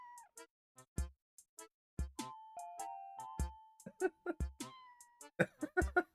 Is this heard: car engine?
no